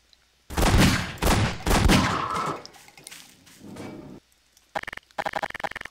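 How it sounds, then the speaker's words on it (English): A shotgun fires in Garry's Mod, with several loud, booming blasts in quick succession that trail into reverberation, followed after a short pause by a burst of rapid, sharp shots. "I'll just go with the shotgun."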